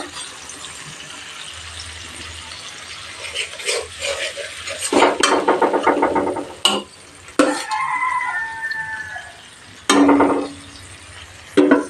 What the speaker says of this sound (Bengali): মিডিয়াম হিটে কষিয়ে নেব মশলা